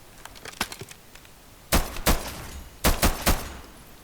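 Cannons boom in the video game From the Fog, first as faint scattered shots, then two heavy blasts followed by a tight burst of three, loud and close with no talk over them.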